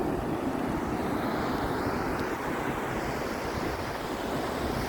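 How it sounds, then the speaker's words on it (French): Sea waves break on a shore in a continuous, full roar of surf, with some wind rumble across the microphone. "Le beau son de la mer."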